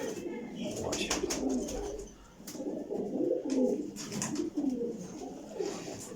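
Large flying pigeons coo steadily and close by, their low rolling calls overlapping through the whole stretch with soft rustling between them.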